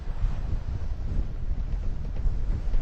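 A gust of wind hits a sailing boat, a close, continuous rumbling roar of wind buffeting the microphone. It swells slightly toward the end and nothing else is heard.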